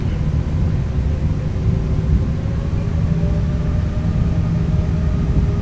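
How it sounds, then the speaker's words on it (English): Simulated Airbus A319 jet engines spooling in X-Plane 12, a steady, loud low rumble with a sustained drone and faint tonal hum, continuous throughout with no talking. "And listen to those engines spool."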